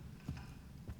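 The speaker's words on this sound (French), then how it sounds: "C'est moi où j'ai entendu des bruits de pas." Two soft, muffled footsteps fall about half a second apart in the Resident Evil Requiem video game, faint and distant in a quiet scene.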